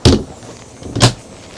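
Two hard thumps from a double door on a 2023 Boston Whaler 28 Vantage boat, close and loud, about a second apart, with light rattling between them.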